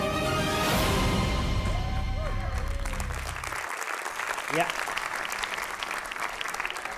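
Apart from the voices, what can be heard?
studio audience applause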